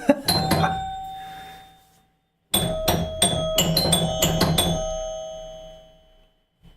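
Bright metallic chimes ring out an end-of-game tune on a Star Wars homebrew pinball machine, a rhythmic sequence of struck tones with sustained ringing, a short pause, then a second loud run of chimes fading out.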